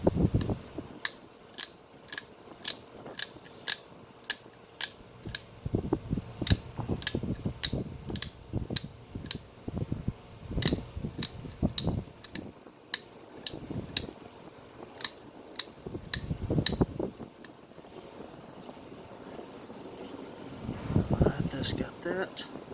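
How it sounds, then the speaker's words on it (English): Stone bird point being knapped, with a long run of sharp, rhythmic clicks and scrapes as flakes come off the edge, closely miked, while someone talks over much of it. "we can raise this edge up real heavy and blow some heavy flakes across that base"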